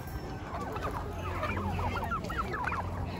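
Turkeys at a poultry market, a flock gobbling and clucking in quick overlapping calls, moderately near, over a low background murmur.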